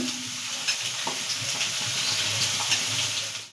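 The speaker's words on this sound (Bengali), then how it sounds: "তেলে আমরা সোয়াবিনটা ভেজে নেব" Soybeans frying in hot oil, a steady close sizzle with soft stirring scrapes throughout and no talking.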